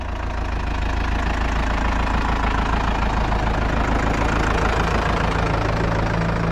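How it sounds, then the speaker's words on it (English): A tractor engine idles close by on a farm field set up for laying plastic mulch, a continuous low chugging rumble with a faint knocking rhythm throughout, no talking. "we got the tractor already set up"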